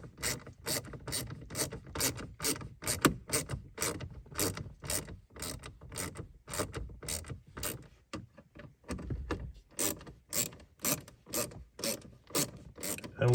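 A hand ratchet tightens screws during a WiFi antenna install in a BMW X3 M40i G01, producing rapid, close clicking in repeated bursts with a short slower stretch in the middle.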